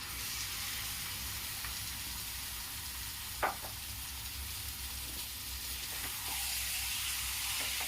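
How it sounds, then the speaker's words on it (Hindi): Marinated chicken goes into a pan of hot oil on low heat and sets off a steady, close sizzle and frying hiss that runs the whole way through. A short clink of a utensil sounds partway in. "मैरिनेट किए हुए चिकन को इसमें मैं डाल दूंगी"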